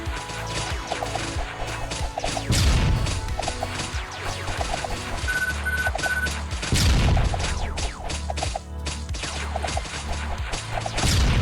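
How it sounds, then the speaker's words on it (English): Satellite cannon strikes in the mobile game Survivor.io: repeated crashing blasts and rapid-fire impacts over busy game effects, with louder booming hits standing out at intervals, no talk. "Gotta love that sound he makes right before the satellite strike"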